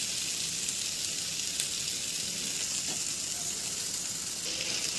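Okra fries in a pan as it is stirred and mixed, producing a dense, steady hiss of sizzling oil that holds constant throughout with no voices.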